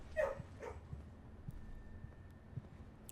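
Dogs barking in the video game Blue Prince: two short, close barks in quick succession at the start, followed by quiet background tone.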